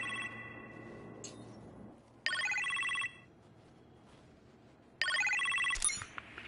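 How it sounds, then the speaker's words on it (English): Telephone ringing in the Iron Man VR video game: two clear electronic ring bursts about a second long, separated by a short pause, indoors in a kitchen setting, with no talking. "You appear to have a phone call in the kitchen"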